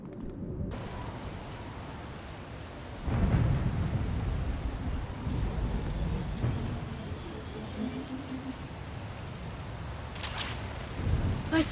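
A thunderstorm in a Star Wars game setting: steady heavy rain hisses throughout, broken by a deep rumble of thunder and a later sharper crack, continuous and enveloping.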